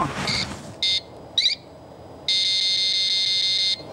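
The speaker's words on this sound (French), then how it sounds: "L'autre partie du détecteur, le buzzer, qui signale la présence d'un radar" A radar detector's buzzer, hidden in a car's glove box, runs its self-test: two short high beeps, a quick double chirp, then one long sustained tone.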